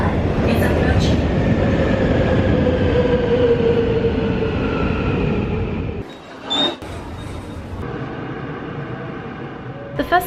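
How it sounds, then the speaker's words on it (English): Seoul subway train rolls into an underground platform with a loud, steady rumble and whine that suddenly drops away, followed by a brief clatter and quieter station ambience. "The train for Gokala is approaching."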